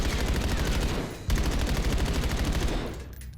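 Sustained full-auto gunfire from a Black Ops 7 weapon, loud and close, with rapid steady shots, a brief break, then more continuous firing that fades out at the end.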